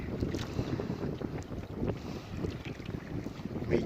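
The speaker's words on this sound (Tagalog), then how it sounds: "Medyo malakas ang hangin" Strong wind buffets a small fishing boat moored beside an island, roaring and gusting over the microphone with water sloshing beneath, continuous and close.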